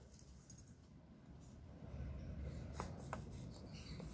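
A sheet of EVA foam being cut, marked with a pencil line for a craft rose petal; soft, close rasping and snipping strokes over a quiet low hum, with no talking.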